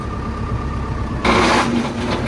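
A cheap muck spreader bought at a farm auction runs on low revs behind a tractor, a steady diesel idle hum that suddenly swells into a louder, rougher mechanical churn as the spreader engages.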